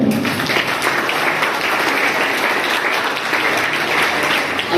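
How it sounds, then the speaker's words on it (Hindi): Parents and children at a gathering celebrating scholarship exam success break into loud, sustained applause, a dense, even roar of clapping from a large crowd with no one speaking over it. "एक बार तालियां बजाएं"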